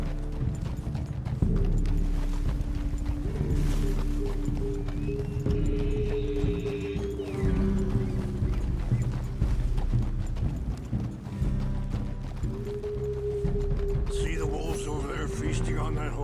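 Horse hooves clip-clop in a steady walking rhythm in Red Dead Redemption 2, close and prominent, with a horse neighing and people talking over the game's ambient sound.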